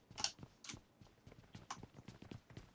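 Enemy running footsteps in a video game: quick, quiet, rhythmic thumping steps in a fast pattern, fairly faint and with no voices.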